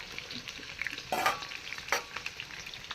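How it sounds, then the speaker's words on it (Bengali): Potatoes and onions frying in a pan in a temporary home kitchen, a soft steady sizzle with a few louder scraping stirs, close and alone with no talk. "আলু ভাজবো আর পেঁয়াজ ভাজবো।"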